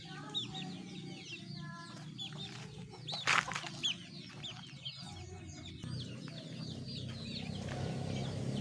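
Chickens and young chicks on a farm cluck and cheep continuously, a busy mix of short high peeps and lower clucks at close to moderate distance, with one louder squawk partway through.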